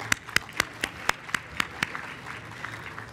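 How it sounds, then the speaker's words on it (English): Conference audience applauding, heard as a thin round of separate, fairly evenly spaced claps over quiet room noise for a few seconds. "So let's give them a round of applause."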